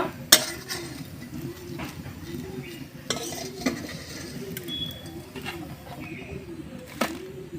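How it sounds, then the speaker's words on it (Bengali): Fried chita pitha being turned with a metal spatula in a pan, soft rhythmic scraping and occasional sharp clinks of metal on metal, quiet and close. "এখন আমি এভাবে খুন্তি দিয়ে উল্টিয়ে নামিয়ে নেব"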